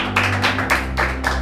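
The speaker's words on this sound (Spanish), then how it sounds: "Así que un aplauso para Camilo" A small audience claps for Camilo, about five quick bursts of applause close by, with a low hum beneath.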